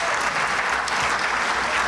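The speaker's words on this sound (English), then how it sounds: "Can we get a round of applause for our food folks out there?" Audience applause at a chamber of commerce annual membership meeting, dense steady clapping from a crowd filling the whole moment at moderate loudness, with no talk over it.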